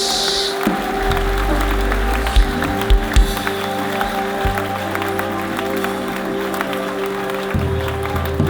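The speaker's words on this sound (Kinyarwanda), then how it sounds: "Reka tumukomere amashyi menshi." Sustained applause from a church congregation, loud and steady throughout, with low musical tones running underneath.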